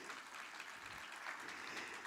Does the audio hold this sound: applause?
yes